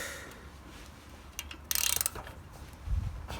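Ratchet wrench with a six-point socket working a badly damaged screw while removing a catalytic converter, giving a few short close metallic clicking bursts, the loudest cluster near the middle, with a low thud toward the end.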